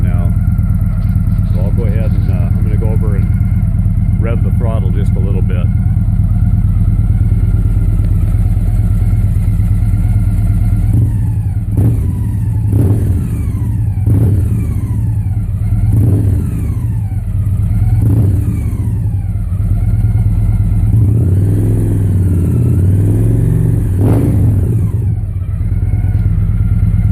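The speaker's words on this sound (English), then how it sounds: "I'm going to go over and rev the throttle just a little bit" A Victory motorcycle fitted with a MagnaFlow exhaust idles with a deep, steady rumble, then takes a series of short throttle blips that swell and fall back, followed by a longer rev, all loud and close with no talking.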